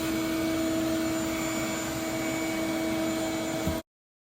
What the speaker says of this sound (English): The first round of the vacuum is always just to take the most superficial dirt out of the car